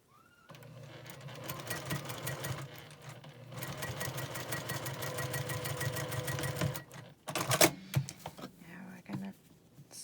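A sewing machine stitches quilt rows together in a steady, fast mechanical whir, pausing briefly midway, then finishing with a few louder clanks and a quick run near the end.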